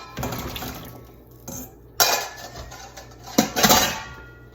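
Rinsed food goes into a soup pot, bursts of splashing water and clinking metal and dishware come in several uneven clatters, close and fairly loud.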